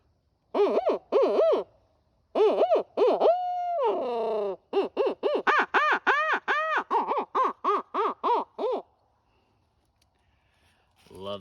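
Brute Hoot Caterwauler owl call blown up close to imitate owl hooting: a few quick hoots, a sustained sliding wail, then a rapid, steady string of loud caterwauling hoots, ending in quiet.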